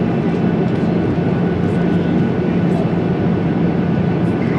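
Steady, loud broadband roar of an airplane cabin in flight, a continuous engine and airflow drone with a low hum underneath, unbroken throughout and with no talking.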